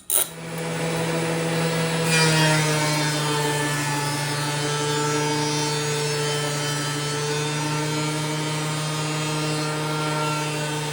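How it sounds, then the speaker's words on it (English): A jointer planes a warped miter saw fence, its steady motor hum carrying a sustained rasping cut that starts with a brief thump and continues evenly, close and moderately loud. "I had to bite the bullet and put it on the jointer"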